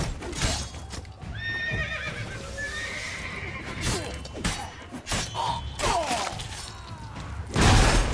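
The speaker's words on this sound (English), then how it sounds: "We grab Roderick's horses and we bolt" Horses whinny and neigh repeatedly over a steady rumble of galloping hooves and clattering, with a loud thump near the end, in the video game The Witcher 3: Blood and Wine.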